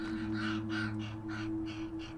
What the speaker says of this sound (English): Ravens also feed their young a wide variety of prey.